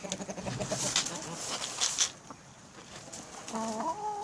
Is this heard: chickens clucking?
yes